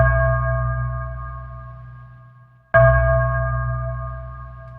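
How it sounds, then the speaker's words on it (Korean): Two strikes on a traditional Korean jing gong, each giving a loud ringing tone with a low hum and clear overtones that slowly decays; the second strike lands mid-clip as the first fades. "북징을 치는 소리이긴 합니다."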